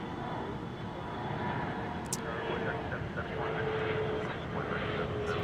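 A CRJ 700 regional airliner flies over DFW airport, a steady low engine rumble that swells slightly as it passes, with faint voices in the background.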